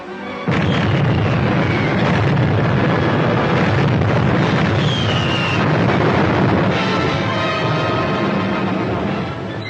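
Heavy torpedo explosions strike a warship cruiser at sea: a dense, continuous roar of blasts and rumbling booms, loud and close, sustained for several seconds with water-like turbulence.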